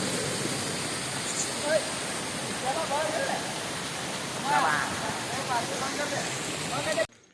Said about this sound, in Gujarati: વોટરફોલની મજા માણવા આવી રહ્યા છે